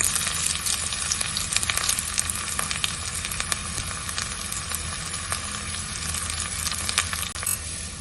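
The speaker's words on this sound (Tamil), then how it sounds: "வெங்காயம் நல்லா வதங்கிடுச்சு." Sliced small sambar onions and dried red chillies sauté in hot oil, giving a steady, close crackling sizzle that holds evenly throughout with faint pops and no talking.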